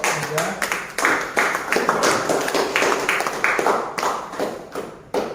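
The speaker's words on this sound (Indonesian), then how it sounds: "Jadi tepuk tangan juga untuk kelompok 3." A classroom of students clapping for a group of classmates after a vocational workshop practical, with dense, sustained hand claps at a steady moderate level running throughout, some close sharp taps standing out.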